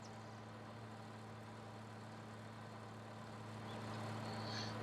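A small tractor in a farming video game, working at lime spreading and cotton planting, drones with a steady low engine hum throughout that grows slightly louder toward the end, with no speech.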